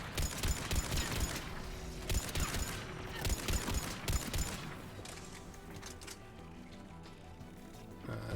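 Paladin heavy pistol fire in the Mass Effect 3 video game: a burst of sharp, closely spaced shots over the first four seconds, then a quieter, busy combat bed with scattered mechanical noise.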